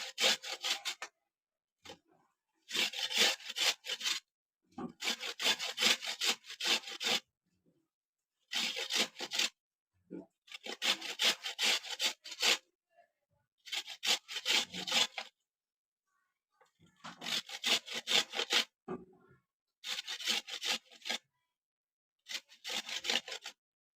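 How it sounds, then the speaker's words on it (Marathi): Indian gooseberry (amla) grated into long shreds: rhythmic rasping scrapes in steady back-and-forth bursts of several seconds, separated by brief silent pauses, close and clear with no talking. "असं लांब लांब किस पाडायचा"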